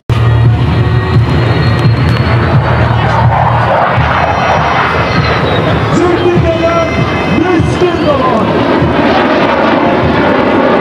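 Turkish military pilot training aircraft at an outdoor technology exhibition, its engine roaring loud and continuous throughout, with crowd noise underneath.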